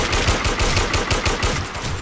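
AUG rifle gunfire in Warmode rattles out in rapid, evenly spaced automatic shots, loud and close, running for the full two seconds with no talk.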